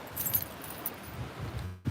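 A set of keys jangles and clinks close by, quiet and scattered over a couple of seconds before a short final rattle.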